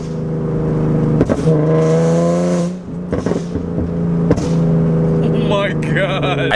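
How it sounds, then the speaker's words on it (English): A straight-piped Nissan 370Z exhaust revs hard and loud, swelling and dropping across several throttle blips with a raspy, droning tone that fills the whole clip. "I straight piped my Nissan 370Z."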